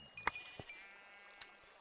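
Blocky Minecraft sheep on a survival-world sheep farm give a few short, clear bleats spaced across the moment, alone against a quiet background.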